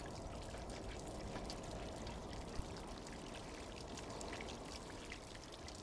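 Water pours and trickles in the video game Stray, a steady broadband rush holding at an even level throughout, with a few faint droplet ticks and no talking.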